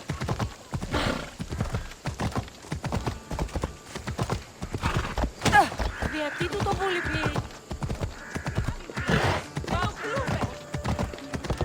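Rapid hoofbeats of a galloping horse in Assassin's Creed Odyssey clatter continuously, with a horse whinnying midway; a voice talks intermittently over the hooves.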